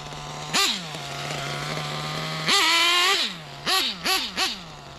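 A nitro RC truck engine idles with a high, buzzy drone during pre-race testing, then rips into one long rev and several quick, sharp throttle blips, loud and close, with no talking.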